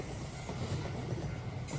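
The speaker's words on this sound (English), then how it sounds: "there's another train approaching. Okay, so this is a freight train, and this is heading down the gradient" A freight train rolls down the Senohachi gradient toward Hiroshima, a steady, fairly faint rumble and wheel noise with no voices.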